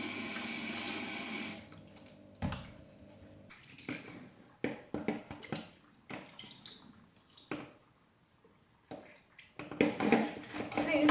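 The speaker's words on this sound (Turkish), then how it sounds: "üzerine ılık su döküyoruz." Lukewarm water is poured over wheat grains in a bowl with a steady stream at first, then gives way to intermittent splashes, sloshing and drips close by, with a voice speaking in between.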